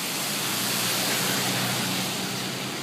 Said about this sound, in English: This is the water main break in Lanikai.